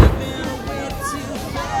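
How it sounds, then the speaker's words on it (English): Fireworks bursting over Hobart, Tasmania on New Year's Eve, a dense continuous rumble of booms and crackles heard from a distance, with crowd murmur and voices mixed in. "Fireworks show over Hobart."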